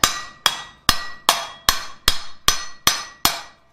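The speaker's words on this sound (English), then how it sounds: "Start with the flat of the hammer, and then we're going to go in with the peen." Nine sharp metallic blows of a hammer peening a rivet on a forged coal shovel strike at a steady, even pace, each ringing briefly before the next, close and loud with no talking.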